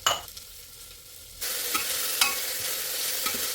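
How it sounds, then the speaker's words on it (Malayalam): Onion with salt frying in a pan: quiet stirring at first, then a sudden steady loud sizzle as it hits the hot oil, with occasional scraping clicks of the spoon, heard close up. "ഇതിട്ട് നമുക്ക് സവാളയിട്ട് ഉപ്പിട്ട് മിക്സ് ചെയ്തെടുക്കാം."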